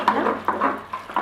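Soft, wet scraping strokes come in quick repeated bursts as pasta carbonara is stirred in a Cookeo pot, close and moderately quiet over a faint hum.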